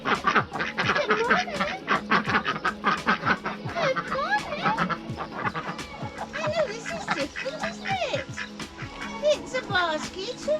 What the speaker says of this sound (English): let's go and see the ducks